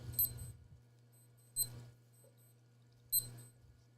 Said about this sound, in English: you guys hear all that beeping